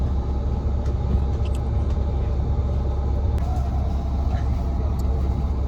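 Low idling rumble of buses at the new Purworejo bus terminal, a steady close engine drone with faint clatter and distant activity, no clear voices.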